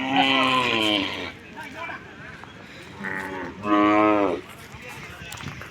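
A native-breed dairy cow at the Palayakottai village cattle market gives two drawn-out moos, the second longer and louder, close to the microphone with low crowd murmur between.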